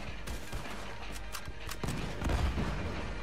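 Rapid bursts of gunfire crackle faintly at a distance in the video game Red Dead Redemption 2, a scattered volley of sharp shots with a dull rumble beneath.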